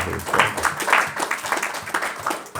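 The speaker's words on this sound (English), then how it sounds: "Let's give an applause to the devotees." A small group claps for devotees at a spiritual camp, with uneven, moderately loud clapping and distinct individual hand strikes.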